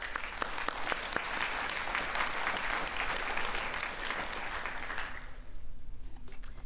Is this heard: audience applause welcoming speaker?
yes